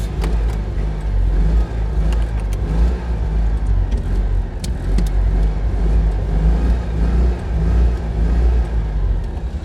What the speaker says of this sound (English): Lovely Peugeot 205 just driven past there.